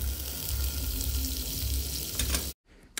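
Butter sizzles and fries steadily in a hot pan, a continuous crackling hiss that runs loud and close before cutting off abruptly near the end.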